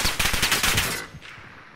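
Rapid automatic gunfire in Call of Duty: Modern Warfare, a loud burst of closely spaced shots lasting about a second and then trailing off into echo.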